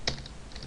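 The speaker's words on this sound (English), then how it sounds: "We'll just type something like" Keystrokes on a computer keyboard while Java code is entered, a few quick close clicks across a brief moment.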